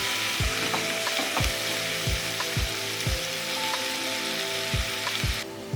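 Cashews frying in a pan with chopped onions as a chicken kurma is prepared, a steady oily sizzle broken by regular scraping stirs of the spoon about once a second, close and alone with no voices.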